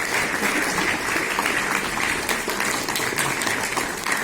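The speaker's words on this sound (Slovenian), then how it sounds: "še enkrat en aplavz tudi vam" An audience in a hall applauds a departing guest: dense, steady clapping from many hands fills the room at an even level throughout, with no voices above it.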